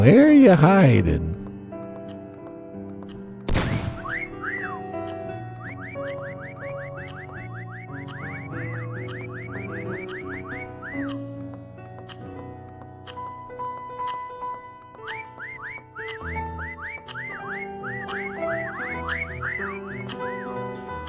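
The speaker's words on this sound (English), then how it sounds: "they should probably put a cooldown on the whistle, because when everyone spams their whistle, it actually becomes useless." Repeated whistle calls from players in a Minecraft hide-and-seek game, chirping in rapid overlapping bursts across the clip amid game music and background sounds.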